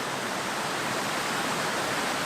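River water rushes continuously near a waterfall, a dense, steady roar of flowing water heard alone and up close, with no voices.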